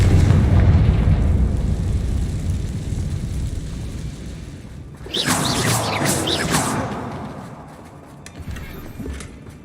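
A Confringo explosion spell goes off in Hogwarts Legacy: a rumbling, busy game backdrop gives way midway to a loud, sudden blast with a crackling whoosh that fades slowly.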